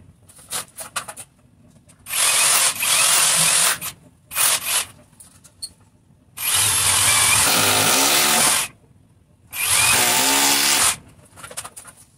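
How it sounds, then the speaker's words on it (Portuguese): An electric drill fitted with a number 6 bit bores holes for mounting a wall clothes-drying rack, three loud, close whining bursts of about two seconds each with quiet handling noises in between. "Agora eu vou fazer os furos. A broca número 6, tá?"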